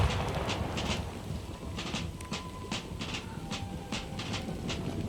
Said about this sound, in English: don't mind the train, that's just where I live.